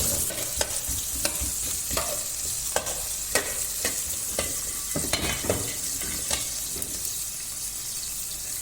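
Half a large onion, thinly sliced, sizzles in hot coconut oil in a pan, with a steady fry hiss and regular scraping stirs about every half second.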